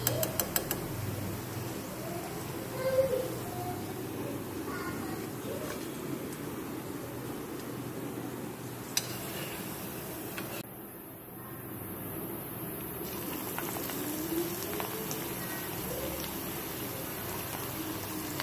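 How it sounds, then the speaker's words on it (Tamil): Food deep-frying in oil over a medium flame gives a continuous bubbling sizzle close by, steady throughout with a brief dip midway and no talk. "கொஞ்சம் மீடியம் ஃப்ளேம்ல வச்சு பொரிச்சு எடுத்துக்கோங்க."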